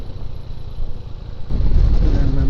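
A motorcycle being ridden on a mountain road between Jomsom and Pokhara, with a close engine rumble and wind buffeting that grows louder and rougher partway through.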